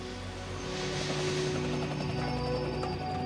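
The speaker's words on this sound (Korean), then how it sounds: "남아공에서는 이런 헬기들이 광산과 정제소를 끊임없이 오고 가면서" A helicopter flies over gold mines and refineries in South Africa, a steady, loud rotor hum with a whining drone that swells slightly and holds throughout, no talk.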